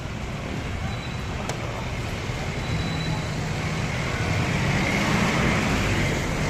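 Steady road traffic noise on a busy street near a fire, a continuous broadband roar of passing vehicles that stays loud and even throughout, with no clear voices in the mix.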